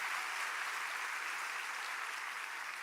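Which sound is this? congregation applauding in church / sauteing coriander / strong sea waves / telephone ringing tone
congregation applauding in church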